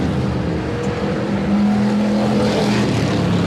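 Hardtop race cars racing at Bakersfield Speedway, engines roaring loud and steady as the pack runs nose to tail, with a rising pitch partway through as a car passes close.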